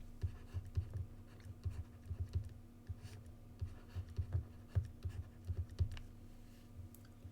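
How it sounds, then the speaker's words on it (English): Pen or marker scratching out mathematical functions by hand on paper or a board, a quiet run of short irregular strokes and taps with a faint steady hum behind. "we're going to write out f, g, h, and I 4 times"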